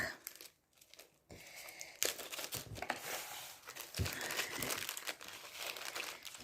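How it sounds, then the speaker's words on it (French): Close, quiet crinkling and rustling of a stiff sheet of sandpaper being handled, in irregular bursts with brief pauses between. "alors ça, du papier de verre."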